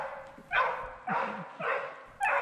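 Hunting dogs on a roe deer drive bark in a steady series of four loud, rhythmic bays, somewhat distant across open ground on the last day of the hunting season, with faint low rustling underneath.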